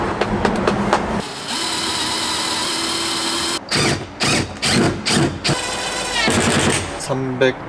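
A power drill bores a hole during a camper van build in a used Hyundai Starex, with one long continuous run, then a string of short stop-start bursts, loud and close, while people talk nearby.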